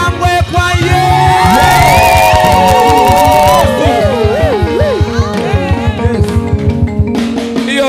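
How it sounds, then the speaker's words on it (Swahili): A church congregation at a Sunday main service shouts, whoops and cheers in praise to Jesus, a loud continuous crowd roar over pulsing music and rhythmic beats, with high voices rising above it. "Wapi shangwe kwa Yesu?"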